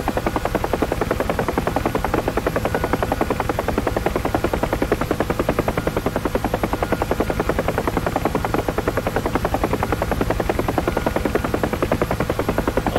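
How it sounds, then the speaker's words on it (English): Close, loud helicopter rotor blades thrap in a fast steady rhythm as the nose lifts, the rapid beating running unbroken over the engine's constant whine. "I love when I lift the nose up and you hear those blades thrap in the air"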